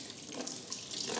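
A faucet feeding a hose runs with a steady, close rushing and splashing of water, loud and unbroken for the whole short stretch, with no voices.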